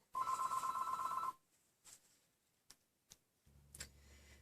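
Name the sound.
telephone ringing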